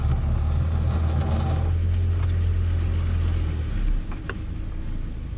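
Interior hum of a Kia Spectra being driven, a steady low engine drone with road rumble that drops off slightly near the end, heard up close and without talk.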